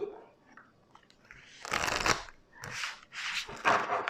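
Tarot cards being shuffled and drawn for a reading, heard as a few bursts of papery riffling and slapping, moderately close, with quiet gaps between them and no talk.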